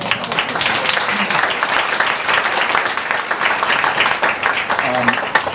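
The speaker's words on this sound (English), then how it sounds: "you definitely can applaud Glenn if you like" Audience applause at a campaign stop by a presidential candidate in Dubuque, a steady dense clapping that fills the whole stretch, with voices murmuring underneath.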